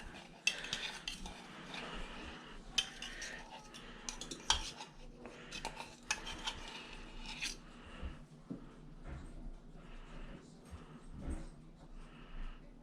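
A small spoon clinks and scrapes against a bowl while chocolate is scraped out during chocolate making, a run of light metallic taps and scratchy rubs, close and moderately loud, with no talk.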